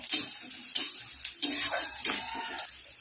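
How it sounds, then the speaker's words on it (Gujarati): Onion sizzles in hot oil in a pan while a utensil stirs it, giving a bright hiss with repeated scraping strokes and light metallic clinks, close up and without speech. "આપણું તેલ ગરમ થઈ ગયું છે આપણે એક ડુંગળી એડ કરીશું અંદર અને ડુંગળીને શેકાવા દઈશું"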